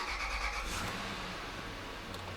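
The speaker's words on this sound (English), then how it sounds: "And we'll go ahead and start the car." A Lexus LX470 engine cranks and catches at the start, then settles into a steady low idle rumble, close by with no talking.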